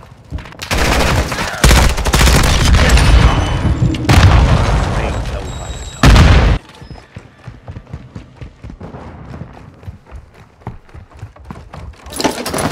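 Call of Duty Modern Warfare 2 (2022) team deathmatch multiplayer combat: heavy booming grenade blasts and loud bursts of gunfire in the first half, a sharp explosion near six seconds, then quieter scattered shots and distant rumble.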